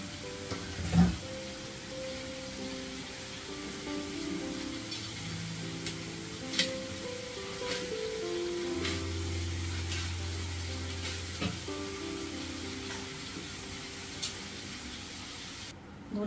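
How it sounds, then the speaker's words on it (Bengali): Potato and cauliflower pieces frying in a pan for a home-style curry, a soft continuous sizzle broken by occasional stirring clinks and faint low clatter, close and fairly quiet. "আলুগুলো আর ফুলকপিটা ভালো করে ভাজা হয়ে গেছে"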